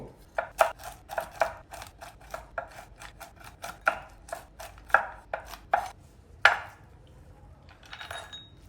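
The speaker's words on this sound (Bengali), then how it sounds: "এখানে কিছু ক্যাশোনাট আমি একটু হালকা কুচি করে দেবো" Cashew nuts being lightly chopped with a knife on a board, a rapid run of close, crisp taps that slows into a few spaced cuts and then stops.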